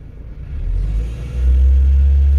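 Car engine revving as the accelerator is pressed, a close, loud low rumble that rises in two surges with no talking.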